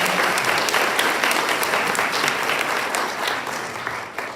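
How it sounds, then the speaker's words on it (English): A sustained round of applause from the audience at a high school senior awards ceremony, honoring graduating students in white stoles; thick, continuous clapping from a large crowd, loud and steady, tapering slightly near the end. "Once again, a round of applause for all of"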